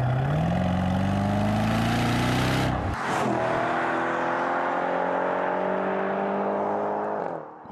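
A Mercedes E63 AMG engine revs hard through rising gears, then a sharp shift and continued deep acceleration, loud and close.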